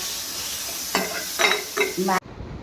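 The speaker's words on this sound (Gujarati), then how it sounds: "કઢી પત્તા, મરચાં, હિંગ, ટમેટાં જરા હલાવો" Tomatoes with curry leaves, chillies and asafoetida are stirred in a hot pan for Gujarati dal, a steady sizzle broken by a few scraping spoon strokes before the sound cuts off sharply.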